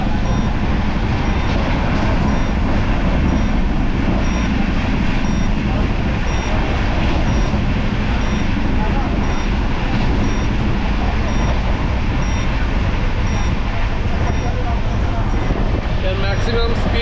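The new LHB-coached Black Diamond Express runs at speed between Kumardubi and Dhanbad, its loud, dense rumble and rushing roar heard from inside the coach, continuous and unbroken throughout.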